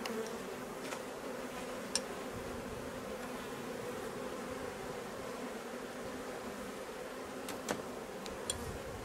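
Honey bees swarm around a populous hive during a summer honey harvest, a dense, steady buzzing hum that fills the scene, with a few faint ticks and knocks from the hive.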